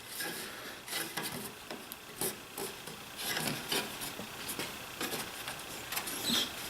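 Wooden mortises for a kitchen hutch are fine-tuned by hand, with rapid irregular rasping and scraping strokes, close and fairly quiet, bursts and pauses following one another.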